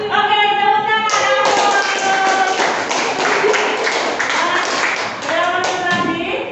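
A class of children clapping their hands together in a dense, sustained burst lasting several seconds, with young voices chanting before and after the clapping.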